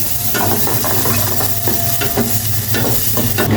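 Raisins, cashews and pistachios frying in butter oil: a loud, dense, close sizzle running throughout, with soft scraping and clicking from a utensil stirring the pan, and no voices.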